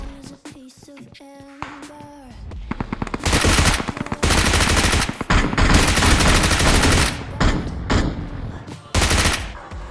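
Repeated bursts of automatic gunfire ring out in the video game PUBG Mobile (BGMI). Loud, rapid volleys follow one another with short gaps, after a few lighter interface tones at the start.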